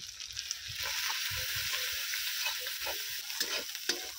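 Chili and turmeric powder frying with ginger-garlic paste for rohu fish kalia, a steady close sizzle with soft rhythmic stirring scrapes and no talk.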